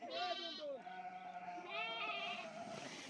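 Two drawn-out sheep bleats, wavering and fairly close, separated by a short pause, with faint background noise.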